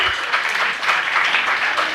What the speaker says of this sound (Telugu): చప్పట్లు కొట్టండి అందరూ ఒకసారి